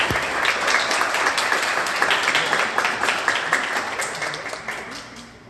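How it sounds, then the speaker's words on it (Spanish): An audience at a binational symposium on identity and borders claps to welcome a speaker, a dense, steady round of applause that slowly thins toward the end. "Les damos un fuerte aplauso para darle la bienvenida"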